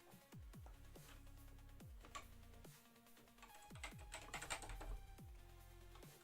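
Keys clatter on a BBC Micro Model B computer keyboard in a quick burst of separate close clicks and thumps, uneven in rhythm and growing busier toward the end, with no voices.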